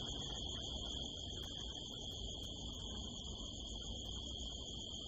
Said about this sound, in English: And hear the crickets.